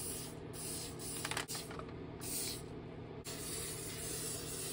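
A spray can lays a second coat of paint on Traxxas TRX-4M RC crawler parts in several close, hissing bursts broken by short pauses and a few faint clicks.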